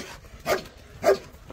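A dog gives two sharp barks about half a second apart, fairly close against a quiet outdoor background, with a fainter yip trailing after.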